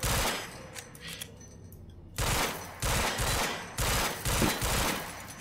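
Gunfire in the video game Quantum Break: rapid automatic bursts repeat after a brief lull, loud and close, each volley a dense rattle of shots.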